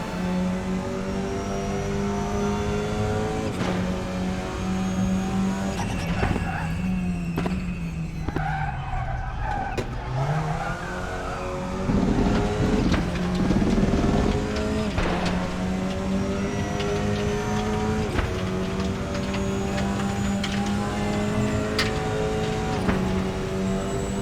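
A race car engine in the RaceRoo racing game revs high and shifts through gears continuously on a WTCR qualifying lap at Spa, with rising and falling pitch and occasional tire skids, loud and close.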